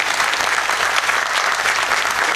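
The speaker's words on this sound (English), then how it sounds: "let's all kind of put one big round of applause for all the panelists" A symposium audience gives a big round of applause for the panelists, a loud, thick, unbroken wash of clapping from many hands, with no voices on top.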